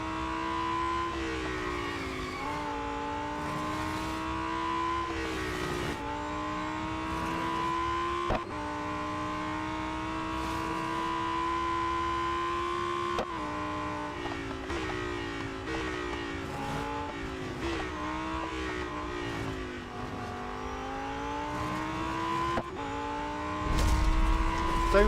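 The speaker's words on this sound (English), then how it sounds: "Looks to be, Le Mans autocross this evening." Race cars in Real Racing 3 lap Le Mans autocross, engines droning and shifting pitch through gear changes and revs, with short bursts and a tire squeal near the end.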